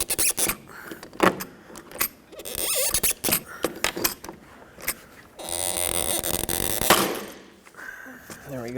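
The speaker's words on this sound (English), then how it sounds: "now pump it. And as you do this, it's actually going to pull the rivet through" A hand rivet tool is pumped to pull a rivet through a plastic front license plate bracket on a 2005-2010 Pontiac G6, giving close, irregular metallic clicks, squeaks and clunks with short gaps, ending in a sustained grinding squeal.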